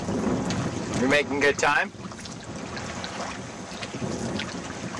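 Sailboat crossing Lake Winnipeg with waves and wind, a steady broadband rush of water and gusting wind over the microphone throughout, with a person speaking briefly near the start.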